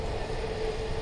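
ATR turboprop airliner at Dublin Airport, a steady droning engine hum with a sustained tonal whine, loud and continuous over a brief stretch, no talking heard.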